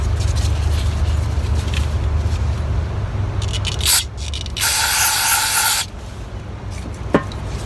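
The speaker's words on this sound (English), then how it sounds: "Let's try some brake parts cleaner." Brake parts cleaner sprayed onto heavy sludge in a Camry oil pan, a loud close hissing burst of about a second, with quieter scraping and a low background rumble around it.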